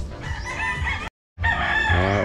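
Roosters crow loudly and repeatedly at close range in a rural spot in Moalboal, Cebu, on a rainy day, with long drawn-out calls breaking off briefly before another crow starts.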